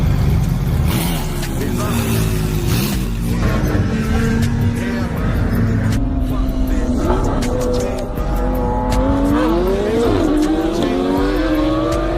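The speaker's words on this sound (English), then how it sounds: "they bought some fast ass cars, and they wanted to test it on the Miami streets" Fast cars racing through Miami streets, engines roaring and revving with rising and falling pitch sweeps, tires squealing, loud and continuous throughout, with shouting voices mixed in.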